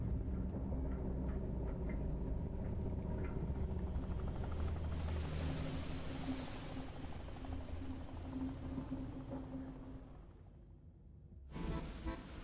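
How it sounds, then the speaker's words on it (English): Helicopter rotors spin in the video game Dredge, a steady thudding whir that holds for several seconds with a thin high whine on top, then cuts off abruptly near the end, with no voices. "the executive boards his helicopter, rotors already spinning"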